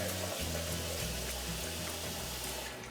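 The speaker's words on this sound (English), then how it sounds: "we're gonna add a little bit more water" Water splashes and gurgles steadily for a few seconds, a close, continuous pour of cold water into a potato oobleck mixture, without any voices.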